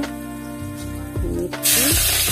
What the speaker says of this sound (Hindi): कढ़ैया गरम हो चुका है। तो इसमें हम डालते हैं जीरा